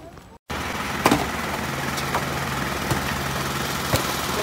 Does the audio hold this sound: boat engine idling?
yes